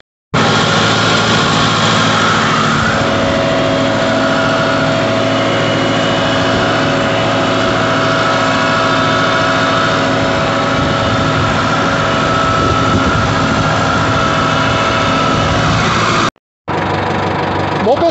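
Tractor engine pulling a disc plow across a field, a steady, loud, continuous drone with low rumble that holds nearly unchanged, broken by a brief cut near the end.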